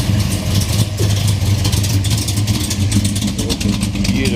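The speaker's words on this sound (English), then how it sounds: "Ooh, listen to this Ford." A Ford car engine at a Coffee n Chrome car meet gives a loud, close, throaty burble with a steady low rumble and rising revs, ongoing throughout without talk.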